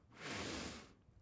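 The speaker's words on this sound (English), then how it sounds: "Breathing in" A single deep in-breath during a children's guided breathing exercise, a soft close airy inhale lasting under a second.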